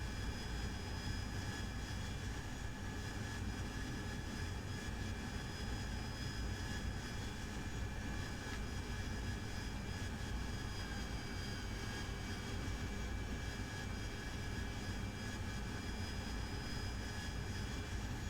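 An AV-8B Harrier jet in DCS World holds a steady, loud engine roar with a whining tonal hum on top, constant throughout with no talk.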